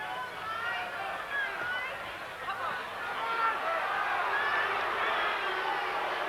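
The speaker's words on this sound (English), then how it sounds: "So the crowd now jeering Smith," Crowd at a 1987 Mike Tyson vs James Smith boxing match jeering Smith, a broad sustained roar of voices from the arena that swells toward the end, with a commentator speaking over it.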